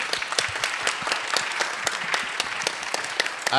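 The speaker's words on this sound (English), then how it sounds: "Can we get a round of applause for the panel?" Audience applause for a panel at a book festival session, a moderately faint room full of clapping with individual claps standing out in an uneven patter throughout.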